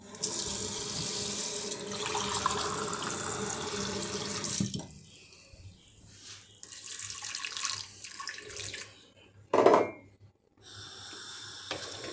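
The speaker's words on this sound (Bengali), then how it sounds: "পানি এড করবো" Tap water pours steadily into a cooking pot for a puti fish and potato curry, then stops, followed by quieter kitchen clatter and a brief knock.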